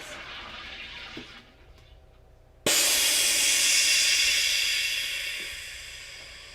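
A Drinkworks by Keurig home drink machine carbonating soda water: after a quieter stretch of machine and water noise, a loud, steady hiss bursts in suddenly and holds, easing slightly toward the end.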